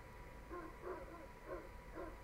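A dog in The Sims 3 game barks in a few soft, repeated yips, faint and somewhat distant beneath steady background game ambience.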